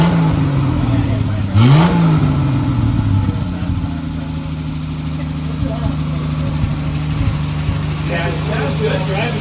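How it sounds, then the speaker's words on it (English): A 1974 Triumph TR6 engine with a choke problem and backfiring trouble runs loud and steady at a high idle, with a brief rev surge near the start, close to the microphone. "I don't know why it's revving so high now."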